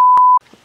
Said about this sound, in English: if you're keeping it PG, are you gonna put like beeps over what?